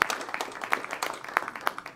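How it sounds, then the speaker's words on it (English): Applause at a boxing fight-week press event welcoming boxer Ramon Alvarez, heard as a steady patter of many overlapping hand claps with sharper individual claps standing out, moderately loud and continuous. "Big round of applause, please, for Ramon Alvarez"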